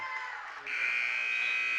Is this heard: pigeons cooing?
no